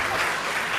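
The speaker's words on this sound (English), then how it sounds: "So you can clap him now." Audience clapping at a teachers' college research day, a brief burst of dense applause.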